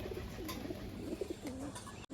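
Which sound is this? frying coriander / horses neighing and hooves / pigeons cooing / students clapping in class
pigeons cooing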